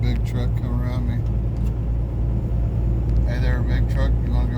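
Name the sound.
big truck passing on road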